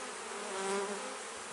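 Honey bees in a hive super that is starting to fill with nectar, making a dense, continuous close-up buzz that swells slightly mid-way.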